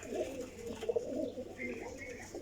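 A prized flying pigeon coos in low, warbling phrases close by, fairly quiet, with a couple of small knocks and a faint higher chirp later on.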